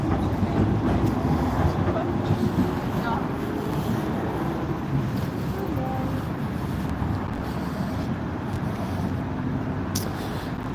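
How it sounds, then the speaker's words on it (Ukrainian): Evening street traffic in Warsaw with trams running by, a steady low rumble of rolling wheels and engines filling the scene continuously at moderate distance, with faint voices mixed in. "Ну ще трамваї навіть їздять нічого"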